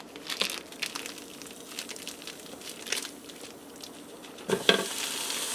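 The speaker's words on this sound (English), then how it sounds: "Now I'm going to add in about 2 pounds of ground beef to the pot." About two pounds of ground beef browns in a pressure cooker pot, a soft sizzle with scattered scraping and crackling stirs, fairly quiet and close, with a louder clatter near the end.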